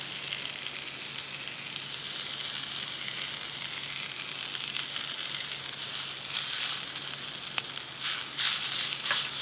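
Fajita meat sizzles in a pan with cayenne and fajita seasoning at a truck campsite, a steady close hiss and crackle that swells louder near the end, with no talking.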